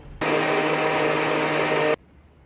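A mixer grinder blends mustard paste with mango paste for Bengali kasundi, a loud steady motor whir that starts abruptly and cuts off after under two seconds, alone.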